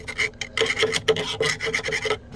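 Rhythmic harsh scraping strokes rasp rust off a severely rusted Farmall 300 gas tank, about a dozen quick close passes with no voices.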